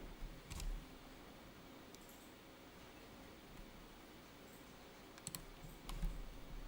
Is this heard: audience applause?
no